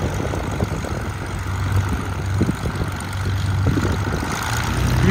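A Cessna 177 light aircraft with a Continental piston engine drones steadily at a fly-in airshow, its propeller hum close and continuous with outdoor rumble around it and no talk.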